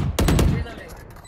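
A quick burst of rapid automatic gunfire in a shooter video game, loud and close, lasting about half a second before dying away as a voice reacts.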